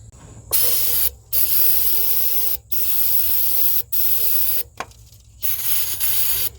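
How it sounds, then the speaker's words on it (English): Several bursts of loud aerosol spray hiss in quick succession into a Chevrolet Tahoe engine's throttle body, each lasting a second or so with short pauses between, close up. "we're gonna spray a little of this down the old throttle body there"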